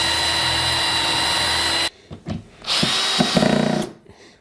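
A power drill drives screws through exterior plywood into the bottom of a wooden chicken coop nest box, a loud steady whine that cuts off, then a shorter second burst after a few clicks and knocks.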